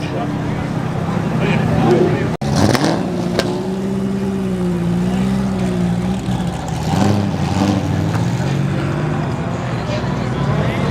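Engine of a Nissan 370Z drift car idling and revving nearby, a wavering mid-pitched drone that swells and dips, with a sharp knock near the start and someone talking over it for much of the clip.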